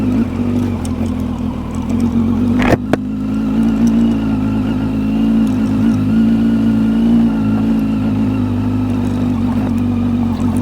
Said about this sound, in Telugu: బండి మెల్లగా ఎక్కేస్తుంది.